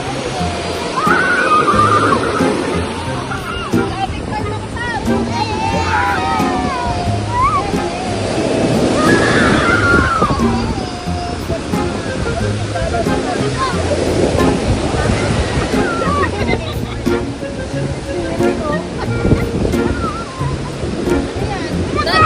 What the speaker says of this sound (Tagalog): Malakas yung alon eh